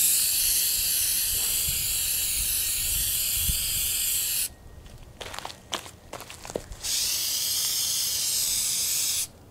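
Aerosol spray coating being applied to a homemade spaceship-style model, long hissing bursts of spray, one running several seconds, then a pause with small clicks and handling noises before another sustained hiss close to the microphone.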